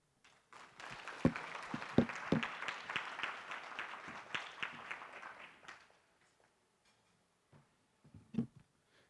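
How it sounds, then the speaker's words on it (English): An audience at a student laptop giveaway event gives a burst of applause for the CEO, with dense clapping that builds, fades out after about five seconds, and is followed by a few isolated claps and a brief, distant voice. "let's give another round of applause, please, to our CEO."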